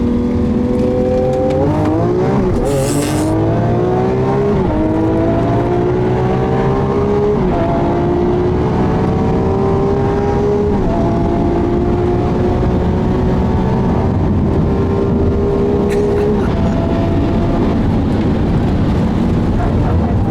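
A 740 HP Lamborghini Aventador S and a 580 HP Porsche 996 Turbo with tuned ECU and exhaust race from a rolling 50, engines roaring loudly with rising pitch through successive gear changes, close and sustained, no talk.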